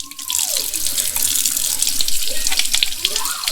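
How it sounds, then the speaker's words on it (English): Tap water running into a sink while a cleaned animal skull is rinsed, a steady close splashing stream with changing gurgles as the object moves under the flow. "Give it a rinse."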